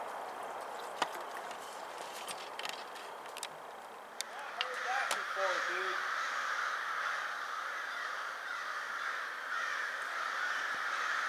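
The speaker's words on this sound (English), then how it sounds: "the crows, man, they are going nuts over something" Crows caw repeatedly and loudly at a sunrise campsite, harsh calls scattered over a steady outdoor hiss, with a few sharp knocks early on.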